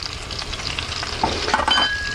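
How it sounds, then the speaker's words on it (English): Spinach, mushrooms and onions sauté lightly in a pan with a steady, close sizzle. A few soft scraping stirs are heard near the end. "And we're just going to saute that lightly"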